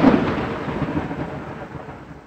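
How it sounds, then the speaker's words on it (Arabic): A loud clap of thunder bursts and then rumbles away, fading over a couple of seconds. "إنه الرعد"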